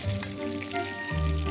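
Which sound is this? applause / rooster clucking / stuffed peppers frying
stuffed peppers frying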